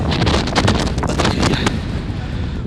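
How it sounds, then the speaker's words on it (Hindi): Strong wind buffets the microphone on Scotland's NC500 coastal route, a loud, continuous rumbling roar with gusty swells throughout, heard alone without talk. "इतनी तेज़ हवा है"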